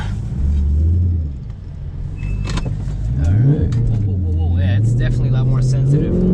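Dodge Charger SRT V8 engine rumbles while the car turns around on a road, low throaty tone rising and falling with light throttle, under someone talking.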